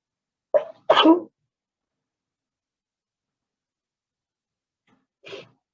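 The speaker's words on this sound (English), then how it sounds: "I just sneezed twice" Two sharp sneezes in quick succession, then silence and a faint short sniff or breath near the end.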